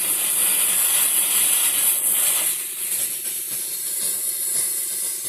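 A handheld pressurized steam cleaner hisses steadily and loudly on carpet throughout, softening slightly midway, with faint mechanical clicks underneath.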